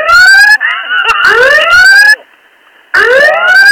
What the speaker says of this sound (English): will you fire the alarm, please?